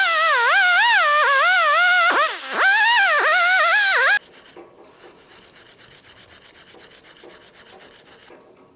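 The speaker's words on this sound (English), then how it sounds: "you also want to clean up the mating surface of your hub" Scrubbing the mating surface of a rear brake hub on a 2010-2013 Ford Transit Connect: at first a loud, warbling squeal of rubbing that wavers in pitch, then a quieter, fast and steady rhythmic scraping.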